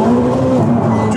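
A V8 car's tyres spin and scrabble under hard acceleration, a loud, close engine roar with tyre noise through a short burst.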